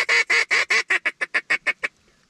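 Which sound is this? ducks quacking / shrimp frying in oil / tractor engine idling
ducks quacking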